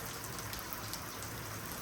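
Spring rain falls steadily in a cold afternoon garden with a blossoming pear tree, a dense, even patter of drops on surfaces with no voices, constant and moderately close throughout.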